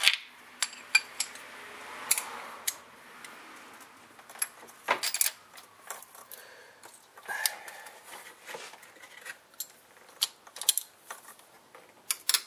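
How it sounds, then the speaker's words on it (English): A metal socket dropped during spark plug replacement on a 2.0L MK4 Volkswagen, giving scattered sharp metallic clinks and clatters over several seconds, close by and with no talking. "Oh, and I just dropped my socket."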